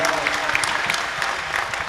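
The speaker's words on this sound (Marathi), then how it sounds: "पण जे काकडा करतात त्याच्यासाठी एकदा जोरदार टाळ्या वाजवा" Audience at a Marathi kirtan gathering claps loudly and steadily in a dense, continuous burst throughout, with crowd murmur underneath.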